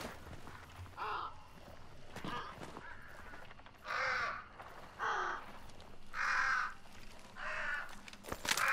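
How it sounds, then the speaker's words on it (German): Ravens in the video game Hunt: Showdown caw in several loud, harsh bursts, spaced irregularly over a quiet ambient background. "Wir sind überall Raben."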